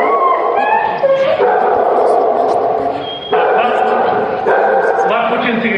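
A small dog barks and whimpers at a press conference, with short yips and whines close by under loud, continuous speech from several people.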